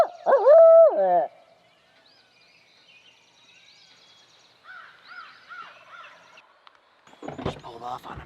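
Wild turkeys in New Hampshire woods, with one loud, close gobble followed by several faint, distant gobbles from other birds and a burst of rustling near the end.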